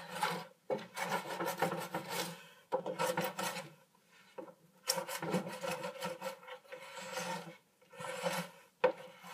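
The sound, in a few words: scraping old wax off a surfboard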